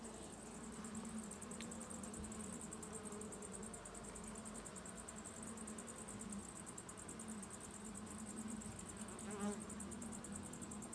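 Honey bees buzz steadily at an opened beehive, a dense continuous drone of many wings that stays even and close throughout, with no talk.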